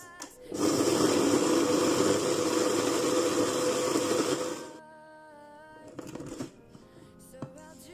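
Electric blender grinding dried onion into powder, a loud close whining roar that starts abruptly, holds steady for about four seconds, then cuts off, followed by a few faint handling clicks.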